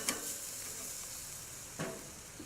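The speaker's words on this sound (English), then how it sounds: "Flip the burgers one more time just to sear that salt and pepper" Lamb burgers seasoned with salt and pepper sear in a hot pan, giving a soft steady sizzle with a couple of brief sharper crackles, fairly quiet and without speech.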